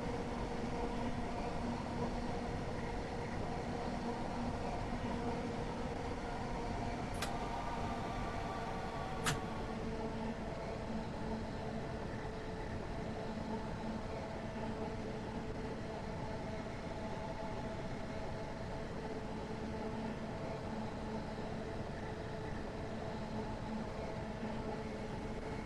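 A train in the game Train Sim World, a 4-car train between Rainham and Gravesend, runs with a steady low rumble and a constant mechanical hum, fairly quiet and unchanging, with a couple of faint clicks early on.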